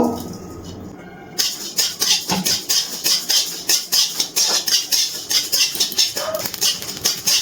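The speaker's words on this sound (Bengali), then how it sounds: "এই কড়াইয়ের মধ্যে গোটা মশলাগুলো ভেজে নেব" Whole dried red chillies, cumin, coriander seeds and puffed rice dry-roasting together in a kadai, a steady run of rhythmic scraping and rattling strokes, close and fairly loud, starting after a quiet second and continuing without talk.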